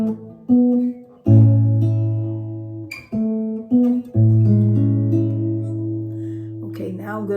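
Fingerstyle acoustic guitar picks out a tune alone, with the thumb on the bass and three fingers on strings four to two, giving clear, close, ringing notes in short phrases separated by brief pauses.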